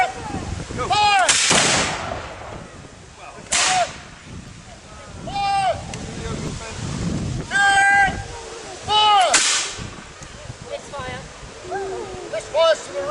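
Musket volleys and cannon fire at a historical military reenactment at Falkland Palace in Fife, Scotland: several sharp, loud bangs a few seconds apart with echoing tails, shouted commands in between.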